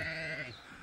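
A sheep bleats at a mountain-top sheepfold, one sustained wavering cry close by that fades away toward the end, with nothing else heard over it.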